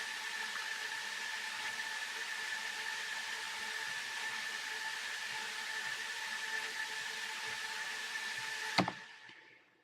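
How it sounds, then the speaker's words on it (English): A white noise sound effect in a music studio track: a steady broadband hiss holds evenly for nearly nine seconds, then a sharp click cuts it off and it fades quickly to silence. "something different that you can utilize white noise for."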